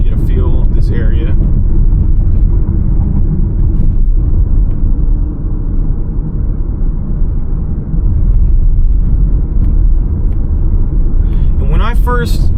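A car drives along a road on Anna Maria Island, Florida, a steady low interior rumble of engine and tyres running loud and unbroken, with a voice speaking briefly at the start and near the end.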